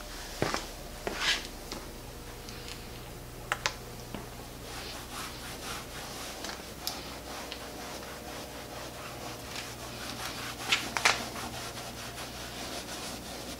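Cloth rubbing JAX WAX Black Trim Renew onto faded, cleaned plastic trim near bleached fender flares; soft, close scuffing strokes, steady and quiet, with a few louder brushing swipes and no talk.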